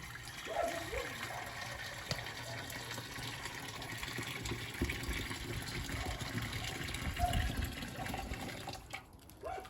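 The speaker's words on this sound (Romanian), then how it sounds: "Adăugăm apă," Water runs from a tap into a cast-iron cooking pot on a stovetop, a soft steady trickling and splashing that carries on for several seconds at low level and then cuts off.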